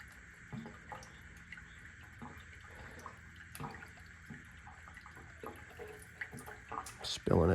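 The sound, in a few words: liquid pouring from 2 liter bottle into fuel line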